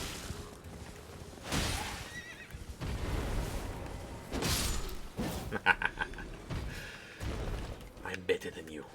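A horse in the video game Elden Ring whinnies loudly several times in drawn-out neighs, mixed with thuds and clip-clop hooves, while people talk over the game sounds.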